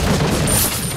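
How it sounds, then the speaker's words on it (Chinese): A loud explosion in the video game Resident Evil 4, a dense, sustained boom filling the whole second with a rumbling roar and no talking. "给你的礼物就是爆炸！"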